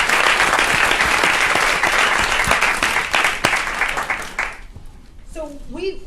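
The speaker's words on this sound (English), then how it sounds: "Let's give them all a big round of applause before we get started." An audience at an event on employment pathways and racial equity gives a big round of applause. The clapping is loud and crowded, then fades out after about four and a half seconds as a voice begins talking.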